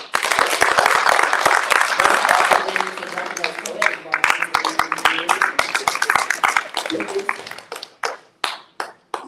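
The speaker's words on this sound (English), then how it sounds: "give a round of applause for all the speakers tonight" An evening audience gives a full round of applause for speakers, dense and loud at first, then thinning into scattered individual claps that fade out, with voices murmuring underneath.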